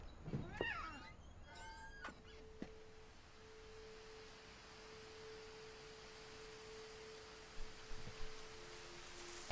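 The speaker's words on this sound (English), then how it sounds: "I didn't imagine a cat, right? There was a cat." A video game cat meows a few times in the opening seconds over a steady hiss and a sustained electronic tone, then quiet ambience follows.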